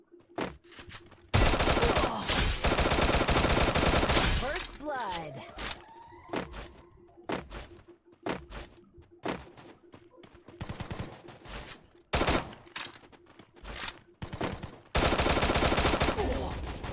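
Gunfire in Free Fire Clash Squad ranked play: bursts of automatic shots and single loud cracks come in uneven clusters, with quieter gaps between them and a voice speaking at times.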